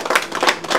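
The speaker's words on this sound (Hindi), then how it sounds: "उनके लिए भी एक बार जोरदार तालियां।" Several rapid hand claps from an audience at a fashion showroom grand opening in Bhagalpur, a short, close burst of clapping with no voices.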